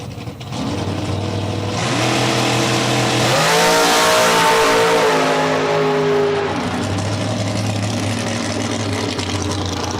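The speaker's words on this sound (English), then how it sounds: "The car just didn't leave the starting line." Drag race car at the starting line of the Spring Fling Galot, engine revving loudly with a rising pitch that climbs, holds and drops, then settles back to a steady rumble, close and dominant throughout.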